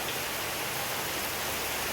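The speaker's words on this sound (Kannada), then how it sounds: "ಹೊರಗಡೆ ನೋಡಿ ಎಷ್ಟು ವಾಪಸ್ ಪುನಃ ಬಂತು ಮಳೆ" Heavy rain falls outside a house, a continuous, uniform roaring hiss with no distinct drops, voices or other sounds standing out.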